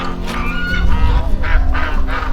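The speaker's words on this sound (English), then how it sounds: "Like geese swimming." Geese on water on a New Zealand homestead give loud, close, repeated nasal honks in quick succession over a low rumbling background.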